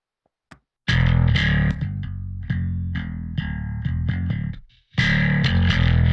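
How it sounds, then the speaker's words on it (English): Electric guitar distorted through the Pro Tools SansAmp plugin for a metalcore cover: loud, heavily driven chugging riffs and sustained chords with short gaps and a brief pause before the riff restarts, playing alone without any voice. "I'm getting most of my dirt from the Pro Tools Sans Amp plugin."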